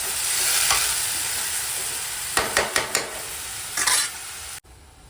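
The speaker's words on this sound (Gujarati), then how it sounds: "હવે આપણે જે ઓનિયનને ચોપ કરેલી હતી એ ઓનિયન આપણે ફ્રાય કરી દઈએ" Chopped onions sizzle steadily in a hot pan, a continuous bright frying hiss broken by a few short scraping stirs and clanks of a spoon against the pan near the end.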